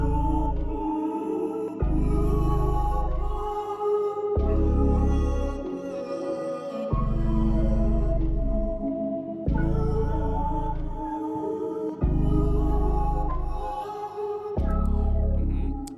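An experimental vocal sample treated with Valhalla VintageVerb reverb and a presence EQ plays in repeating phrases about two seconds long, each with a heavy low end and a washy, reverberant tail.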